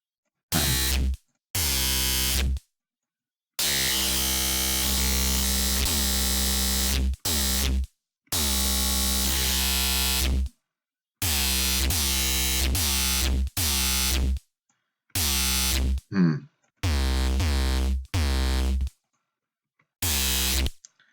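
A gritty, harmonically dense neuro dubstep bass synth squashed with OTT multiband compression plays in loud sustained bursts, separated by short silences, with no voices.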